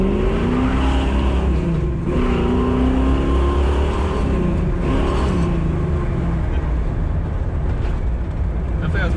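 First-generation Chevrolet Camaro with re-jetted carburetors accelerating hard, a loud roaring engine with rising and falling pitch sweeps as it revs through gears, with voices mixed in.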